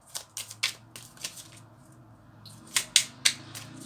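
Tarot cards are shuffled and drawn by hand: a run of crisp paper flicks and riffles, followed by a few sharper snapping slaps as cards come off the deck, close and clear.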